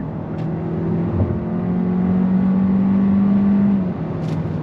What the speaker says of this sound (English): But let's go on throttle again.